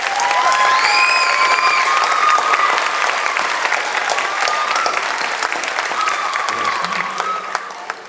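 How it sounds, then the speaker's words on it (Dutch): A theatre audience at an awards revue in Ghent claps loudly and continuously, with some cheers and whoops over the applause. It fades slightly toward the end. "En ik verdien, die verdien zeker een dubbel applaus."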